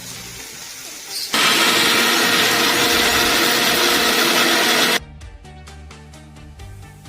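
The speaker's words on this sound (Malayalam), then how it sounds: "ഇതാ നമ്മൾ ഇഞ്ചിയും വെളുത്തുള്ളിയും പെരുംജീരകവും ഒന്ന് അരച്ചെടുക്കട്ടോ" A mixer grinder blends ginger, garlic and fennel in one loud, continuous whirring burst of several seconds, starting and stopping abruptly, with quieter kitchen noise before and after.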